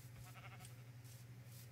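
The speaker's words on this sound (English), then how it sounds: "That's a sheep." A sheep bleats faintly in Minecraft, a short wavering cry set against a steady low hum and quiet background.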